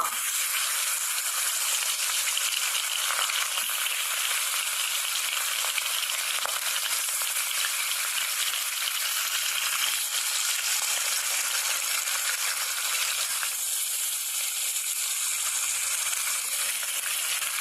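Fish pieces coated in salt and turmeric fry in a pan with a bright, continuous crackling sizzle that stays loud and even throughout, with no voices.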